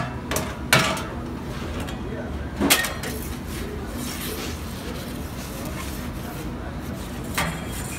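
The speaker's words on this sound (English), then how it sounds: "Put in the oven." A pizza slides into a hot pizza oven amid a few sharp metallic clanks and scrapes of a peel and pan, with a steady hum of the oven and kitchen behind.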